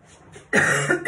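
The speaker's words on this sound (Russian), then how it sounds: "у меня как будто бы внутри мокрый кашель" A single wet, phlegmy cough bursts out after a brief quiet moment, close and loud, with a rough rattling quality.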